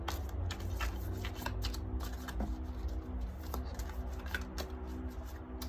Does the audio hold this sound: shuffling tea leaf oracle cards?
yes